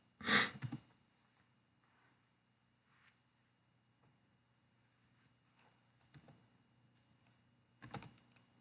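Computer keyboard typing, heard as a loud burst of clacking keystrokes at the start, a few light taps through a quiet middle, and another short flurry near the end.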